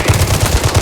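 A brief, steady rattle of machine-gun fire from the Gangstar Mirage City mobile game, loud and close, with evenly spaced shots and nothing else heard.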